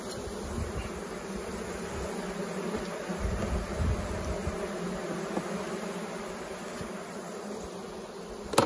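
Honey bees in a double brood colony hive buzz as one steady, dense drone, close and moderately quiet, with no talk over it.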